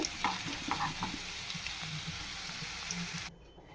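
Small new potatoes fry in a pan with a dense, crackling sizzle and scattered stirring clatter, close and continuous, before the sound suddenly drops near the end; no voices.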